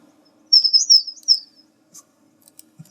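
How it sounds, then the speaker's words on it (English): Synthesized hummingbird call from a synthesizer preset: a rapid, high, twittering chirp burst lasting about a second, followed by a few faint scattered ticks, clean and close against near silence. "Hummingbird. It's quite convincing stuff."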